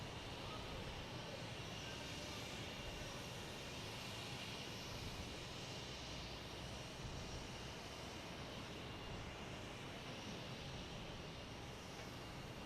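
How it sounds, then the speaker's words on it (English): A Delta Embraer E170 airliner arriving at Boston Logan Airport, heard as a steady, broad engine roar that holds at a constant level throughout, distant and with no talk over it. "We have Delta coming in at E170, coming in from Charlotte."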